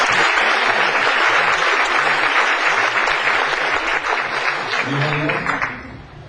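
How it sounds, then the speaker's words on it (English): A crowd of roughly 350 office administration professionals claps steadily at a talk, a dense wash of applause sustained near and loud for about six seconds before it thins out at the end. "Yeah, clap, that's it."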